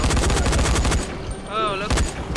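Rapid bursts of gunfire from an enemy shooter in the video game Dying Light crackle loud and close, with a short lull in the middle before the shots resume.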